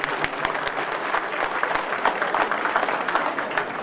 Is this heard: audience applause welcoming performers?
yes